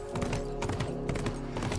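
Horse hooves clip-clop in a steady, close rhythm in The Last of Us, loud and alone with no talking, with a brief whinny-like tone mixed in.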